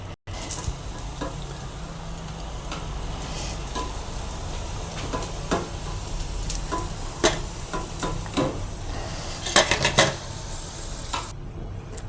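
Poha kachori frying in hot oil, a steady close sizzle with bubbling crackle and occasional sharp clicks of a utensil against the pan.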